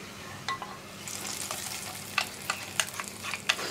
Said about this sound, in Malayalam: അപ്പോൾ ഞാൻ വറവ് കറിയിലേക്ക് ചേർക്കുകയാണ്